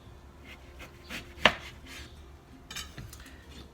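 A knife slicing through a sweet potato on a cutting board, one sharp chop followed by a couple of softer knocks and scrapes, close and fairly quiet.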